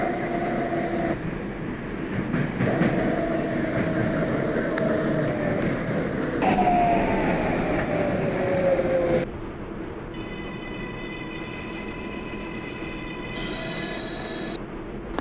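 A Manhattan-bound New York 6 local subway train rumbles along the tracks with steady wheel roar, squealing and shifting tonal whines as it runs and slows, heard up close from inside the car.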